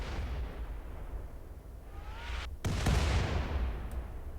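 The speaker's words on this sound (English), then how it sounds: "If we get tagged by one of those explosions, we are pretty much dead." Rumbling explosions from a space battle over a base in the game Rimworld: a continuous low roar, then a sharp heavy blast with a deep boom that rolls on loudly, all without any talk.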